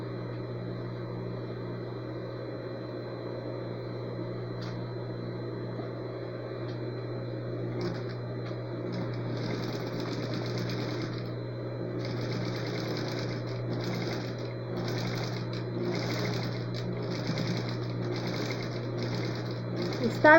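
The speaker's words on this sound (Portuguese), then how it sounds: "passar aquela costurinha de meio pé de máquina na volta toda" A sewing machine runs a straight seam around fabric pieces, its motor whirring steadily in short, repeated bursts over about twenty seconds with a constant low hum behind it.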